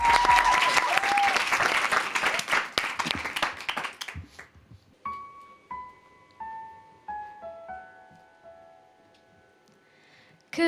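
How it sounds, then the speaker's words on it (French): A studio audience applauds a singer loudly and densely for about four seconds before the clapping stops abruptly. Soft tones and a few scattered sounds follow in the quiet. "Bon, eh ben on t'applaudit, puis on t'écoute."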